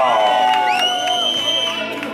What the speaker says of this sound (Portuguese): Palmas pro Gustavo!